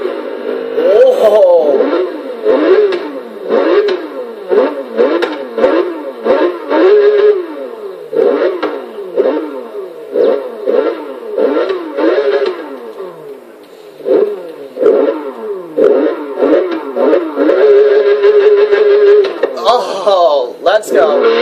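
A 2004 Porsche 911 GT3 engine in the racing game Forza Horizon 3, loud and close, rising repeatedly in sharp climbing revs through quick gear changes, with a few held steady stretches.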